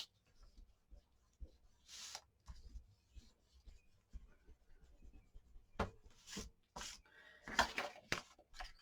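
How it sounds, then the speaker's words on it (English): An eraser rubs a pencil line off paper during a craft project, giving soft scattered scrubbing strokes that turn into louder, quicker bursts of rubbing near the end. "but I am going to erase my pencil line."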